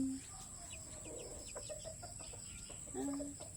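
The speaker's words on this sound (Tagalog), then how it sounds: "Nakain ng sisiw." Chicks in a chicken coop eat grass and maize put out as a snack, giving scattered soft clucks and small peeps over a steady background hum, with no talking.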